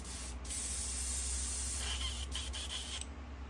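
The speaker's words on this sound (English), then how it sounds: "We'll spray it and let it dry, then I'll go over what we did." An Eclipse airbrush sprays paint onto a fishing lure with a close, steady hiss that runs unbroken for a few seconds and cuts off at the end.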